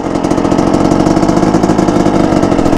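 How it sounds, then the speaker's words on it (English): A Yamaha YZ250 two-stroke dirt bike engine revs steadily under light throttle as the clutch is eased out, a loud, continuous buzzing drone with rapid pulsing, close by and without talk. "So a little bit of gas, rev it up a little bit, and slowly let out the clutch"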